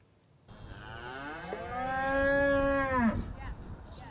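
Cattle, steers and heifers among sheep and goats, visiting the windows of a long-term care home: a single long, loud moo rising and falling, close by, over faint outdoor background.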